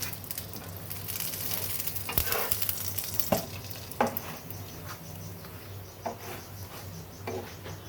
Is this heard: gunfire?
no